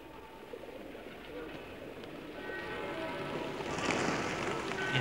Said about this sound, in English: Traditionally, besides cats, the Venetians love pigeons.